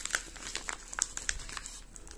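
Envelopes holding trading card booster packs torn open by hand, a close run of crisp paper crinkles and rips in irregular bursts.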